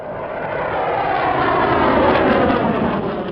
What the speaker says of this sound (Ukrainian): Над нашим будинком пролітає винищувач. Надто низько, звук страшений.